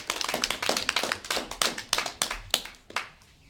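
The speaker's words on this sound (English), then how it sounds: "let's give him a round of applause" Audience applause rings out at a talk or presentation once questions for the speaker end, a dense, steady run of many hands clapping close by for a few seconds before it starts to thin.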